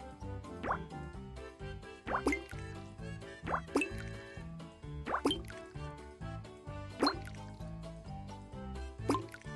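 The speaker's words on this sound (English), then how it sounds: "Max, 5 ice cubes should do the trick." Five ice cubes dropped one by one into a drink in a kitchen scene, each landing as a short liquid plop or clink at an even pace over steady background music.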